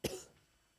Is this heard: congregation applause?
no